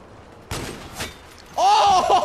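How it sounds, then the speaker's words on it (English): Video game gunfire with a few sharp shots, then a louder burst of rapid fire with ringing, whining tones at the end, close and brief, with no voices over it. "I'm getting shot at"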